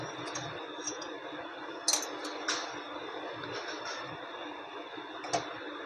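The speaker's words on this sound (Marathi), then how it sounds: "तर आपण चमच्याने सारण टाकूया." A spoon scooping mango modak filling into a hand-shaped dough cup, giving a few light metallic clinks and taps over a soft constant background hum, with no one talking.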